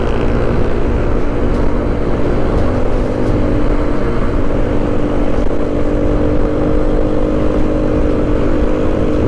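Two stock motorcycles, a 2013 Fury 125 and a Mio i 125 scooter, race side by side. Their engines roar in a loud, steady drone that is close, constant and buffeted by wind.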